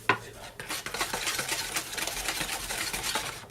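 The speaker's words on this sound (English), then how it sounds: "Give it a stir." Spoon stirring chocolate fudge cake batter in a bowl, with repeated scraping and clinking strokes against the sides, close and moderately soft, no voices.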